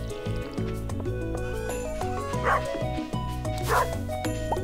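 Two short dog barks from the Stardew Valley farm dog ring out over steady, tuneful game music, with a voice faintly present in the mix.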